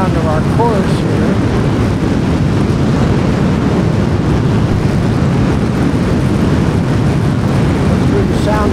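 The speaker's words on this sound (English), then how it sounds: "Just went through the sound barrier." F-15 jet in flight through the sound barrier over the Sierras, heard from inside as a loud, steady broadband roar of engine and wind noise that fills the whole stretch without letup.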